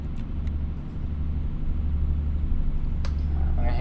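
A heavy truck running through a ZF 12-speed transmission with splitter gear changes gives a steady deep engine drone inside the cab that swells slightly, with a sharp click near the end.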